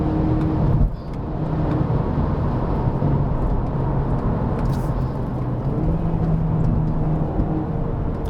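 2019 Volkswagen Beetle 1.2 TSI climbing a hill road at Genting, the engine droning steadily under load with a continuous low hum and road noise from inside the cabin, briefly dipping before settling back.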